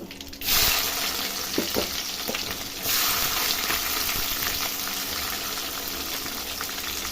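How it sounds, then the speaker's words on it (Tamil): Mustard seeds, curry leaves and onion frying in oil, heard as a loud continuous crackling sizzle that jumps up twice as ingredients hit the pan, with a few light knocks. "கடுகு போட்டு தாளிச்சுங்க மக்களே கடுகு வச்சுட்டு கருவேப்பிலை போடுங்க அப்புறம் வெங்காயம் போட்டுக்கோங்க"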